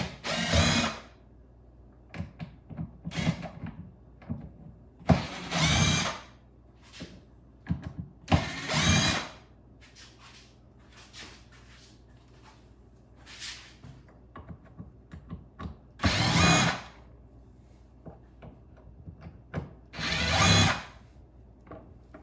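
Power drill backing screws out of the front plastic cover of a Minn Kota trolling motor, in several loud close bursts of whirring separated by quieter pauses with small mechanical clicks.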